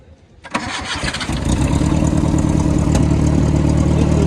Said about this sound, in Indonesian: Setelah itu kita nyalakan mobilnya.